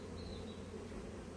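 Honey bees buzz densely on a hive frame crowded with brood about to emerge, a continuous close, loud drone with no pauses and no voices.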